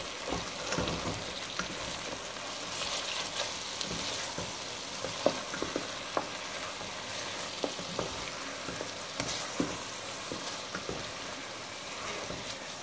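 Chicken with chickpeas and spinach sizzling in a frying pan while being stirred: a steady, dense crackle and hiss with faint scraping, fairly loud and continuous, with no talking.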